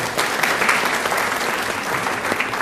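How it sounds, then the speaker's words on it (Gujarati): Steady, dense applause from an audience at a religious discourse, many hands clapping together at an even level throughout. "તાળીઓ વગાડી આપો."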